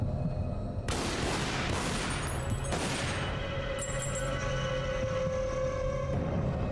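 Gunshots from Lara's weapon in a Tomb Raider video game, a few sharp bursts at about one and three seconds over a steady loud game soundtrack, with no talking.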